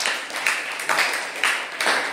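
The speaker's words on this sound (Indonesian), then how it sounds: "tepuk tangan buat yang bertanya" A small group in a classroom claps for a student who asked a question, rhythmic applause in a few distinct pulsing waves, close and moderately loud.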